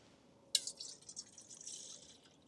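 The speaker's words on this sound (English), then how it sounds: "Let's pour our 2 ounces of water" Water pours into an aluminum camping cook pot, starting with a sudden splash, then a soft, continuing trickle and gurgle, fairly quiet and with no one talking.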